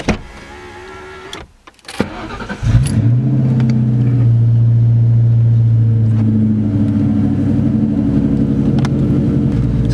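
A 1996-2004 2V Mustang GT V8 cranks over after a tune upload, a short starter churn, then catches at about three seconds and settles into a loud, steady, throbbing idle close by.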